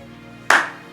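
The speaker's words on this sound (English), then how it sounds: "the silence is broken by a slow clap" A single sharp clap rings out suddenly after near silence, close and crisp, with a short fading tail.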